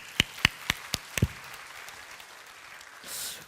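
Church congregation applause during a Sunday service: a handful of crisp, separate claps close together, then the room falls almost silent before a soft rustle of noise returns.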